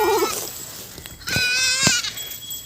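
A goat bleats twice in quick succession at close range while drinking thin milk, the calls loud and wavering, with a faint high voice briefly heard just before.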